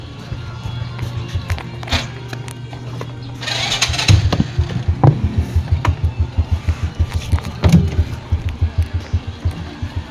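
A motorcycle engine cranks and catches, then putters unevenly at idle with a steady pulsing rhythm, close up, with brief voices in the background.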